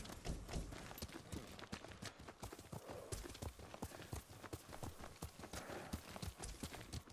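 Horse hooves clip-clop in a quick, steady rhythm as a rider gallops across open ground in Ghost of Tsushima, close and continuous throughout.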